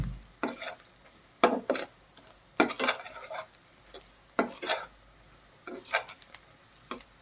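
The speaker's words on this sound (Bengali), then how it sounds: "এখন এগুলো দিয়ে আবার একটু নেড়ে চেড়ে নেব।" A spoon stirs fried onions with bay leaves, dried chillies, cinnamon and cardamom in a pot for a country chicken and potato curry, giving sparse, uneven clinks and scrapes over a faint sizzle.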